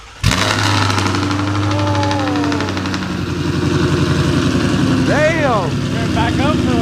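A 5.0 car engine with newly replaced headers cranks and catches, then settles into a steady idle with a low rumble while people talk nearby.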